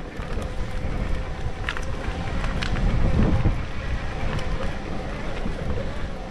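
Wind roars across an exposed ridge during an electric mountain bike ride on a cross-country circuit near Lesaka, heard as steady, dense rushing and buffeting close to the microphone for several seconds, with no talking.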